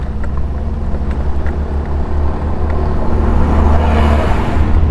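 Steady engine drone and road rumble while riding a 2012 Honda Vario 125 motorcycle stuck behind a truck on a rough road near an oil palm plantation, continuous and fairly loud, building slightly toward the end, with no talking.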